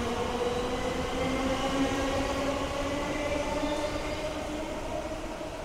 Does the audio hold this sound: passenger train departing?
yes